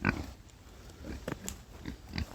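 Pigs in a silvopasture paddock give several short, low grunts spaced irregularly, fairly close, with no talking.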